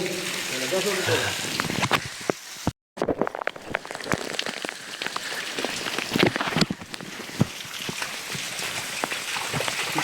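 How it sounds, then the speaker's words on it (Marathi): Heavy rain pelts down at Ghangad fort, with sharp individual drops spattering close by, and voices are heard briefly near the start. "मुसळधार पाऊस"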